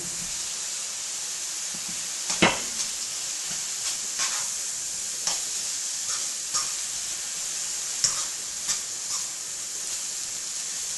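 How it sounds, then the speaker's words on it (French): Montbéliard sausages browning in a pan with onions and garlic, a constant bright sizzling hiss with occasional sharp pops and spatters, heard up close with no talking. "rajoutez les saucisses de Montbéliard pour les faire revenir aussi"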